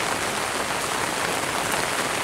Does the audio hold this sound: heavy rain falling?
yes